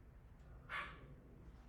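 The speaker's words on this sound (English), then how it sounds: "my dog is going crazy in the background" A pet dog playing by herself indoors gives a single short bark, faint and distant in another room over a low steady background hum.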